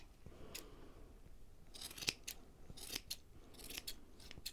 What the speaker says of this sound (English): I'm going to cut some shorter pieces up here, up front. And just keep trimming and cutting